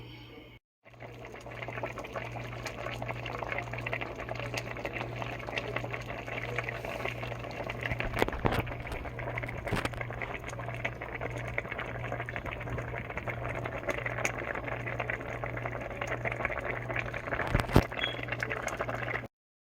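Zuppa Toscana soup cooking in a covered pot, a soft, steady bubbling simmer with a low hum underneath and a couple of faint clinks.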